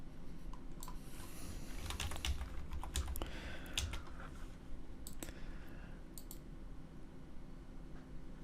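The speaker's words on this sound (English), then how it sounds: "If not, you just type in C2.jpg." Computer keyboard typing a file name: a quiet run of soft clicking keystrokes, some clustered and some spaced out, over a low steady background hum.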